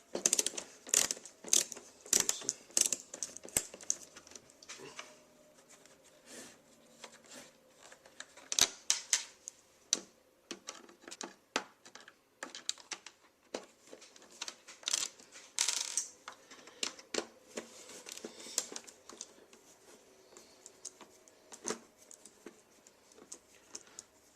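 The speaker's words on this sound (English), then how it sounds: "But we take all of these screws out first. Let's set my ratcheting screwdriver to" Small screws being removed from a BMW E28 odometer with a ratcheting screwdriver: irregular rapid ticking clicks and light metallic taps, close and fairly faint, in a quiet room.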